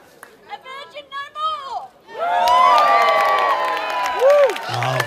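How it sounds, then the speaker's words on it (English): A festival crowd at an outdoor event gives a loud, sustained roar of yelling and cheering, rising after a short stretch of talk and holding for several seconds. "Big yell when you're ready."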